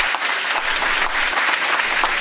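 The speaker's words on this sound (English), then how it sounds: "clap for me all you want" A crowd applauds steadily throughout, a dense, even patter of many hands clapping at moderate loudness.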